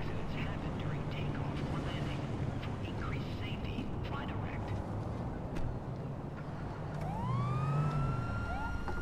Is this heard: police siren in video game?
yes